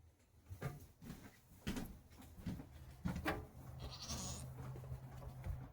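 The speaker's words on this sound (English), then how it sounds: "And that's my goats trying to get into the camper." Goats bleating and nosing around a camper, with scattered knocks and bumps as they push at it, plus a steady low hum underneath.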